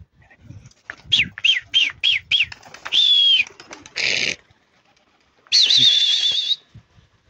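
Pigeons close by give a quick run of five short, sweeping chirps, then longer whistled calls separated by brief rustling, noisy bursts, with quiet gaps between.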